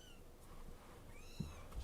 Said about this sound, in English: What are they meowing for?